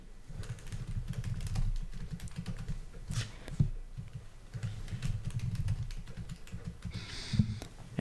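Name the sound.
typing a new password on a computer keyboard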